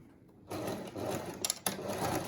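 A sewing machine starts up and stitches a fabric mask in one steady close run, with a couple of brief clicks and jolts as it works, no talk over it.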